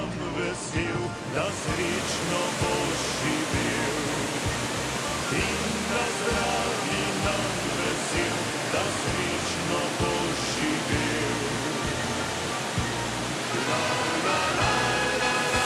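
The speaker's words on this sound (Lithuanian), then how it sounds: "Vindgaro tarpeklis baigėsi ties Šumo kriopliu, kuris yra aukščiausias upės krioklys Slovenijoje." Šum waterfall at the end of Vintgar gorge in Slovenia, the highest river waterfall in the country, its water dropping 26 metres in a steady, dense roar that holds unbroken throughout.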